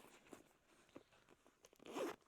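A zipper on a pocket of a sewn sling bag is pulled in a few short, soft rasps, then one longer quick zip near the end, faint and close with no talking.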